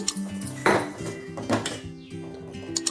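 A spoon scrapes and clinks against a metal pot while stirring a thickening milk pudding mixture with China grass, giving irregular close metallic knocks and clatter with no talking.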